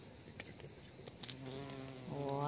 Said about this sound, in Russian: А жужжит так громко.